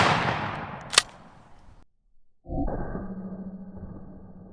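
A 12 gauge shotgun fires a single Hornady Critical Defense slug, a sharp loud blast at about one second trailing off into a decaying rumble, followed after a brief silence by a steadier mechanical noise.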